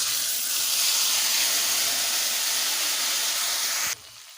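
Spice paste hits hot oil for Bengali begun posto, eggplant cooked with poppy seed, giving a loud, steady close-up sizzle and hiss for about four seconds before it cuts off sharply.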